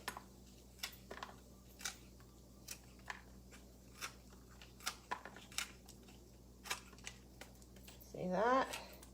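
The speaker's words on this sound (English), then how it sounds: "I'm going to cut the outside leaves." Artichoke leaves being cut with scissors, a series of sharp crisp snips and crunches close by, with a brief voice near the end.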